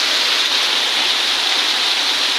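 Heavy tropical rain pours down in a steady, loud, dense hiss without let-up, recorded outdoors in Satun province, Thailand.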